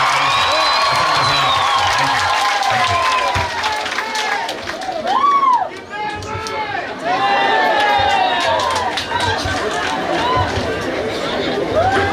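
Applause from a church congregation at a Pentecost Sunday service in Igembe North, Kenya, a steady close wash of clapping and crowd chatter that runs unbroken for the whole stretch, with voices and whoops mixed in.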